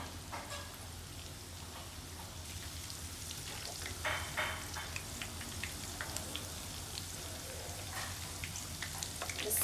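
Marmite murukku frying in oil gives a soft, steady crackling sizzle, with faint bubbling and scattered small pops throughout.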